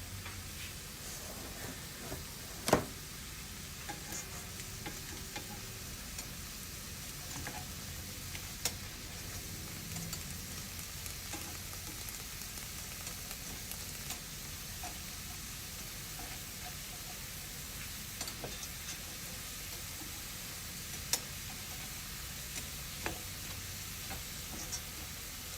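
Shrimp pan-fry with a quiet, steady sizzle, a low hiss across the whole stretch and occasional faint clicks and taps from flipping.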